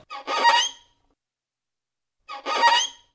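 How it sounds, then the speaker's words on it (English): Two short, eerie squeaks from a sound-design plug-in, each about half a second long and separated by silence, with a thin, shrill, creaky quality. "weird, creepy squeak."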